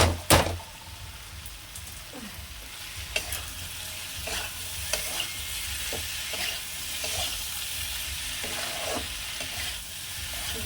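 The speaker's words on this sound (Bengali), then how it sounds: "এবারে এর মধ্যে আলুটা নুন দিয়ে একটু সেদ্ধ করা কষিয়ে নেবে" Salted boiled potatoes frying with garam masala in a pan, a continuous close sizzle broken by repeated scraping stirs and spatula knocks at an uneven pace, with no voices.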